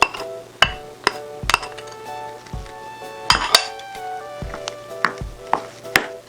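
Garlic and onion are stirred in a pan with a utensil, giving a series of close, sharp metallic clinks and scrapes at irregular intervals over a faint background hum, without talking.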